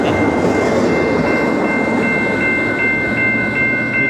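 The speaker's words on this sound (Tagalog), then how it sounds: "nakatayo ako sa railroad crossing na may dumadaan na tren dito sa US" A train rolls through a railroad crossing in Illinois, US, a steady loud rumble of cars on the rails throughout, with a sustained crossing bell or horn tone held above it.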